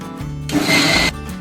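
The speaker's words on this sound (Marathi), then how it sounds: "अद्रक लसूण पनीर कोथिंबीर बॉईल झालेले सोयाबीन मिक्सरला लावून घ्यायचं" A short burst of a mixer grinder whirring loudly for about half a second as it grinds boiled soya chunks with ginger, garlic, paneer and coriander, framed by a low mechanical hum before and after.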